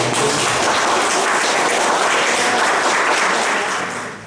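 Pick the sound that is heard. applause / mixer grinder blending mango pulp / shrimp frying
applause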